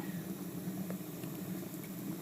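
Faint, steady crackling and hissing of wet elm wood burning in a brick batch-box rocket stove, a low continuous sizzle with occasional small pops.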